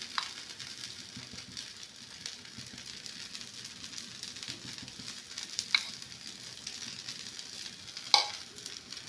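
Paniyaram batter sizzles and crackles in a hot pan, a steady quiet frying hiss with occasional sharper pops and a light scrape near the end.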